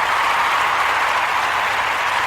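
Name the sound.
audience applause at church speech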